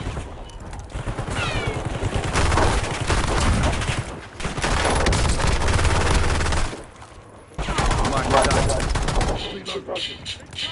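Sustained gunfire in the Warzone video game, dense bursts of automatic fire and shots that keep going with brief lulls, loud and close throughout.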